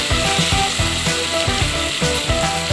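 Tomatoes frying in oil in a pan for Telugu uppu charu give a steady, close sizzle with a dense crackle that holds through the whole stretch, and no one talks over it.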